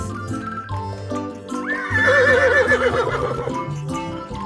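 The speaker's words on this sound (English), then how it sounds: "H for horse." A horse whinnies loudly in the middle of a children's animal flashcard sequence, a wavering, rising neigh lasting about two seconds over a soft, steady musical backing.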